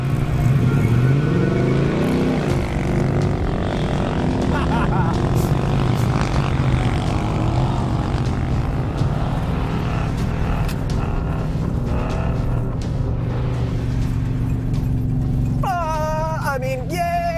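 A heavy 600-hp supercharged Roush Ford F-150 pickup engine drones loudly and steadily while climbing a sand dune, straining under load, with a brief higher whine near the end.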